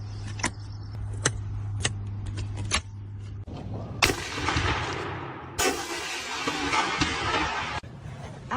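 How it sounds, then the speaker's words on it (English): Grandpa's 12 gauge double barrel shotgun firing both barrels at once, preceded by several sharp metallic clicks of handling, then a heavy blast with a long rumbling tail, and a second loud report. "The 12 gauge double barrel shotgun with both barrels going off at once."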